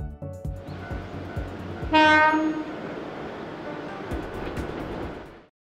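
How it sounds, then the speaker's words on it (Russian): An old three-car train runs on a mountain railway on the slope of a volcano, with a loud, sustained rumble, rhythmic clacking of the wheels and a blast of the horn partway through. "Старый разваливающийся поезд из трех вагончиков сначала идет над пропастью"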